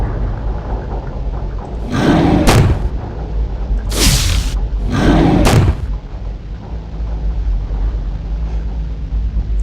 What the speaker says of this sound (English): you two deal with that, we'll shoot the dragon.